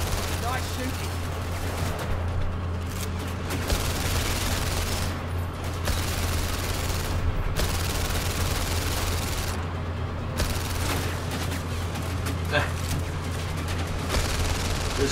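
Sustained rapid gunfire in the VR shooting game The London Heist, dense bursts and volleys rattling continuously and loudly over a low steady hum, with no gaps.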